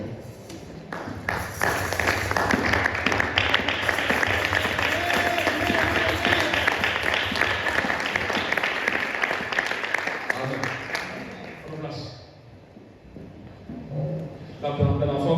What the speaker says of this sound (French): Est-ce que nous pouvons se lever et acclamer pour la parole de Dieu?